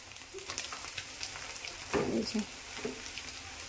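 Drained Maggi noodles dropped into a pan of frying potato and egg, a soft steady sizzle with a brief louder burst of stirring and splatter midway.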